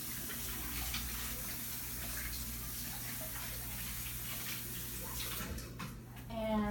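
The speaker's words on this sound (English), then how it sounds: "I'm just going to rinse my hands off really quick" Tap water runs steadily as hands are rinsed before handling sourdough starter, a soft continuous splash under a low hum, ending with a brief clatter and a short whistle-like tone.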